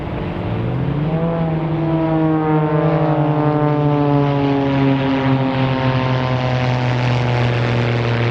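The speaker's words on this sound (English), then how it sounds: "as Todd Farrell gets dizzy in a flat inverted spin" A Northern Stars aerobatic propeller plane performs a flat inverted spin at the Canadian International Air Show in Toronto, its engine loud and close, droning with a pitch that climbs then holds steady.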